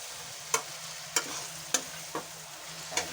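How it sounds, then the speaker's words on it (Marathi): Masala frying in a pan is stirred, producing five spaced spatula clacks over a soft, steady sizzle and a low background hum. "चांगलं हलवून घ्यायचं मसाला."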